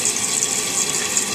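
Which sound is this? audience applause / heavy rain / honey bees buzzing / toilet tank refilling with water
toilet tank refilling with water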